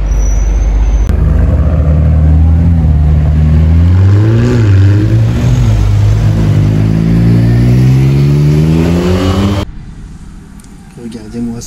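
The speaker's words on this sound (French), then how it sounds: "McLaren Senna" A McLaren Senna supercar engine revs loudly at close range on a Monaco street, climbing in pitch and holding a deep roar before cutting off abruptly near the end.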